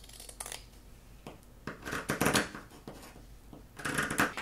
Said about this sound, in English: I'm just going to work with my scissors down that cut edge